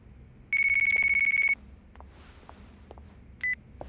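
Flip phone ringing in the video game Yakuza Kiwami 2: a steady electronic ring tone holds for about a second, then a short second beep follows over faint background game sounds.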